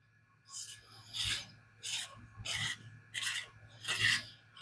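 Spyderco Manix 2 LW knife in CPM SPY27 steel sharpened freehand on aluminium oxide lapping films: soft, close rasping strokes, five or six in an even back-and-forth rhythm over a low steady hum.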